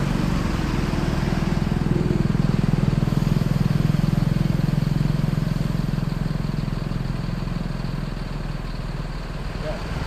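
Bus pulling out of Kampung Rambutan terminal on a departure toward West Sumatra: a continuous low engine rumble with rattling, steady and close for about ten seconds, slowly easing in loudness toward the end.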